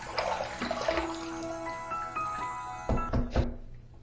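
A razor is rinsed under a running tap, with water splashing and trickling into a sink, followed by a few sharp knocks against the basin.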